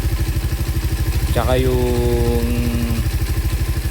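A Suzuki Raider 150 Fi motorcycle engine idles at a steady, fast, loud pulsing beat close by, while someone speaks briefly over it.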